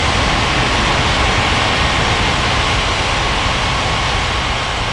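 A jet airliner takes off in an air traffic control game at a fictional island international airport, with a loud, steady roar of engine noise that holds for several seconds.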